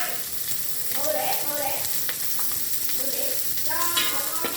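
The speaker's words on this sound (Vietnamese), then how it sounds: "bà nội chiên bánh xèo đó" Meat-filled bánh xèo pancake frying in a pan, a steady close sizzle with bursts of crackle and stirring scrapes running the whole time, no talking over it.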